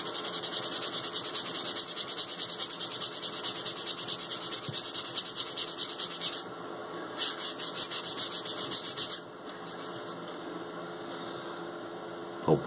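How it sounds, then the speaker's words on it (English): Sandpaper rubbing back and forth over a leather holster for a 1911 pistol, a steady close scratchy friction that runs continuously before easing into lighter, intermittent strokes. "And as you sand,"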